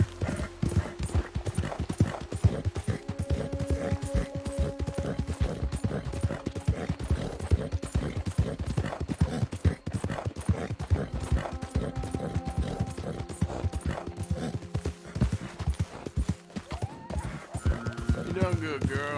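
A horse galloping in Red Dead Redemption 2, dense rapid hoofbeats pounding close and continuous for the whole stretch, with talk and game music underneath.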